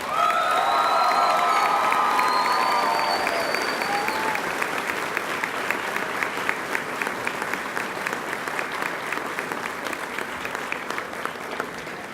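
Graduating class applause swells into a standing ovation at a June 2016 high school graduation ceremony, loud and sustained crowd clapping that gradually thins over about twelve seconds, with faint cheers early on.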